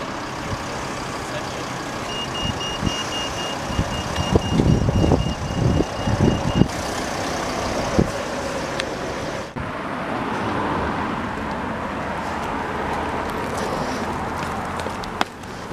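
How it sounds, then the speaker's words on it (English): A Scottish CityLink coach on the M90 service pulls away in Aviemore, its engine rumble swelling then thinning into steady outdoor road noise, with a reversing-style beep nearby and no talking. "there's the bus heading away"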